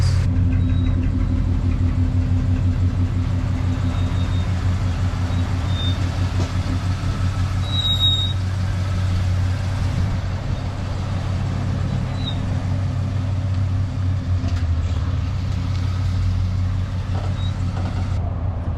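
A Ford Galaxie pulling away on a test drive after a vacuum fix, its low engine rumble steady and fairly loud throughout, with no talk.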